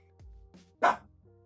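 A dog gives a single loud, short bark over a low musical background with soft tones before and after.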